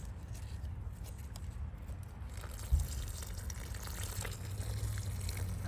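Water pours from a hose or can onto a freshly planted flower in garden soil, a soft steady trickle and splash that swells louder partway through, with no talk.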